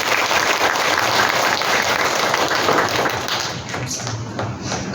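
Church congregation applauding during a Sunday service, a full, steady burst of clapping that gradually thins out toward the end.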